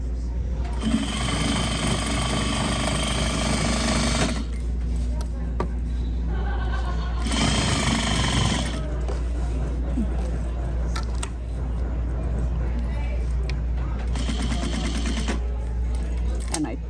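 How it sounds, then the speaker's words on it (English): A sewing machine stitches a repurposed damaged vintage quilt from sleeve cuff to hem in long, loud, steady runs, stopping between passes, with a voice speaking during the pauses. "Now I am sewing from the sleeve cuff all the way to the bottom hem."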